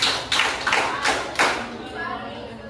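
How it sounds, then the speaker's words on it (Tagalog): A classroom group of students claps five times together in a quick, loud series of sharp bursts, with voices heard alongside. "Kaya ang limang palakpak ang pangalawang grupo."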